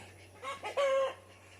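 A chicken gives a short, close call, a few rising clucking notes that end in a longer squawk, set against a quiet background with a low steady hum.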